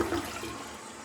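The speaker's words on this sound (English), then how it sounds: "let's give y'all a flush." A cheap Mexican front-flusher toilet with five front jets and open rim holes flushes in a short, steady rush of water that stays loud and close throughout.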